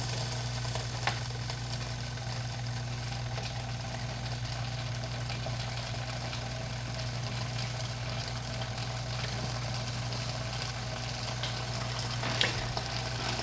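Steady, gentle sizzling from a mushroom, cheese and pesto panini pressing on a hot panini grill, continuous and fairly quiet, with a low mechanical hum underneath and no voices.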